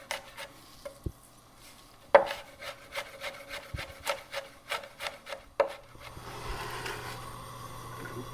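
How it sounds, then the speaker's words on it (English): A knife chops a serrano pepper, seeds and all, on a board in a run of steady, close, fairly quiet rhythmic taps, pausing briefly partway through. "now we're going to chop up 1 serrano, seeds and all"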